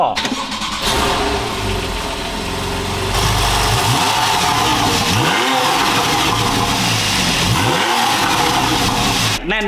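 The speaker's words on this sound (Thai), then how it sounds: "เดี๋ยวผมสตาร์ทให้ฟังนะกับการที่เราได้แบบ NA รุ่นสุดท้าย" A naturally aspirated supercar with sport exhaust cranks and fires up, settles into idle, then barks through several sharp revs that rise and fall, loud and close, with a voice talking over it.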